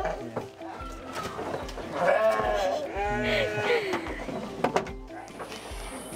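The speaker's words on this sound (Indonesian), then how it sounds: "ini adalah domba yang Sally pilih" Sheep bleat at a livestock farm in Bogor, with several wavering, nasal calls rising and falling in the middle of the clip, close by and over steady background farm noise and people talking.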